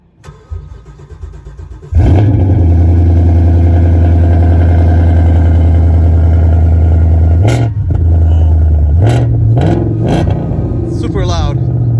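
A 2018 Ford Mustang GT with resonator and mufflers removed starts with a sudden loud roar, then idles with a deep, booming exhaust rumble, several sharp revs breaking through near the end, close and loud.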